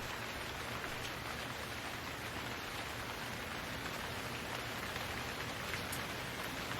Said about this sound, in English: You'll hear it occasionally over the pitter-patter of the rain.